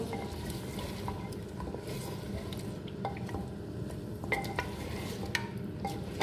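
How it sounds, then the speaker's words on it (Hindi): Small pieces of goat trotters (paaye) frying in a pot, a soft steady sizzle with scattered light scraping and clinking of a spoon against the pot, fairly quiet and close, no talk. "चलिए मैं इसको भूनती हूँ"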